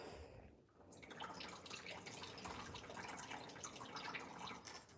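Paint diluted with five parts water drips from a freshly coated interior wall, giving a quiet, steady patter of small droplets with no talking.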